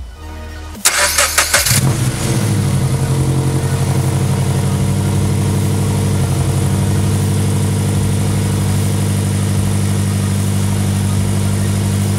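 A Subaru BRZ fitted with new lightweight crank and alternator pulleys cranks briefly, catches and fires, then settles into a steady, loud idle close by.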